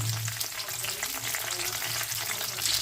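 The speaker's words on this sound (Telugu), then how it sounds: "ఒక ఎండుమిరపకాయ, బిర్యానీ ఆకు, జాజి పువ్వు వేసుకోవాలి. ఇవి కొంచెం కాలిన తర్వాత పచ్చిమిరపకాయలు వేసుకోవాలి." Dried red chili, bay leaf and mace frying in hot oil for a mutton curry: a steady, close, loud crackling sizzle that holds for a few seconds with no voices.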